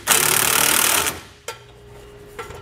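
A power tool snugs bolts on fifth wheel rails during a Curt custom installation kit fit on a 2020 Chevy/GMC truck, with a loud one-second whirring buzz and then two short bursts.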